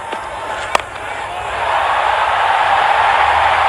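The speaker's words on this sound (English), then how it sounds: "That's put away for 4 and a big cheer from the crowd." A cricket crowd roars and cheers after a boundary, the broad wash of noise swelling louder and sustained, with a sharp clap or crack near the start.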